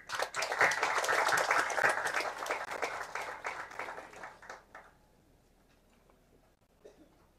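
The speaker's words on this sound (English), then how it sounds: "Please give them a round of applause." Ceremony applause at an airfield in Timor-Leste marking the handover of a Cessna 206 with a surveillance system: dense, loud clapping from a crowd that thins out and fades after about five seconds, leaving near quiet.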